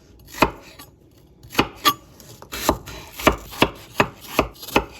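A knife chopping an apple into cubes on a cutting board: about a dozen sharp, close knocks in an uneven rhythm, with brief quiet gaps between them.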